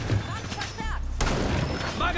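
Blasts from the ACS12 drum-fed automatic shotgun in the tactical shooter Rainbow Six Siege, a quick fusillade of loud, booming shots in a busy, dense in-game mix.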